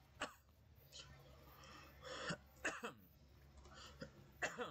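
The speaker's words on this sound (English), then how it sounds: "I get this stupid cough." Several rough coughs and throat-clearing bursts from a character in the medieval combat game Mount & Blade II: Bannerlord, spaced irregularly over faint ambient game sound.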